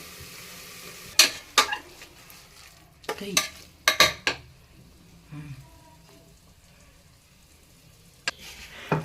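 Chopped green chillies tossed into a hot pan and stirred while cooking North Karnataka Sankranti food, with sharp clanks of a spatula scraping the pan in quick clusters and a faint sizzle between them.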